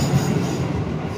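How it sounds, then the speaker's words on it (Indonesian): A train rolls past nearby, producing a dense, steady rumble of wheels on rails with a faint metallic hiss, loud and unbroken for a moment with no voices. "Kereta lewat sih."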